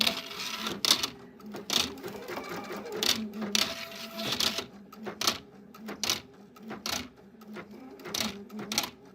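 An embroidery machine with a ribbon embroidery attachment stitches in rapid mechanical bursts, pausing briefly between runs, close and fairly quiet.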